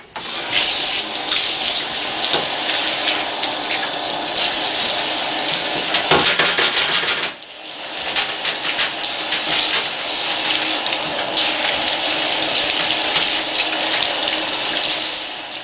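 Water spraying steadily to rinse a dog during grooming, a loud continuous hiss of running water that briefly dips midway before resuming.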